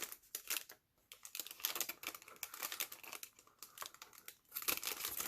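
Paper being trimmed for a junk journal envelope pocket insert gives close, crisp crinkling and cutting sounds in uneven bursts, with short pauses and no talking.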